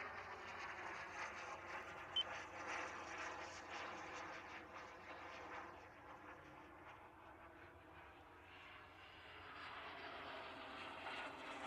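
An EA Picaro 2.0 RC jet flies steadily overhead in a continuous, fairly distant airborne whine that fades slightly midway and then swells again as it climbs.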